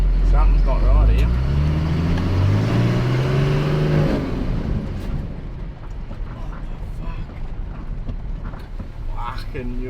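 A car driving stuck in first gear, its engine straining loudly and rising in pitch, then easing off, with people talking over the engine noise.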